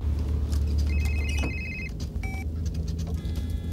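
A telephone ringing in a 1996 French comedy scene, a short electronic warbling ring followed by a brief second tone, moderately loud over low traffic-like rumble.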